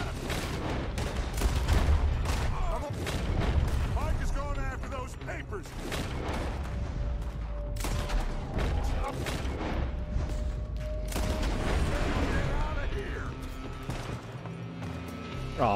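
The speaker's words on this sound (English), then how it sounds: "oh, I shot a civilian" Repeated gunshots and volleys of gunfire in Red Dead Redemption 2, close and loud in dense irregular bursts across a chaotic shootout, with someone talking over the firing.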